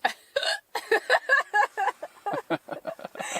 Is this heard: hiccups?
yes